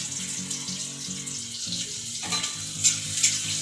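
Onion and dried red chillies fry in hot oil and are stirred, giving a steady close sizzle with soft scraping and a couple of brief clinks near the end, alongside a low droning hum.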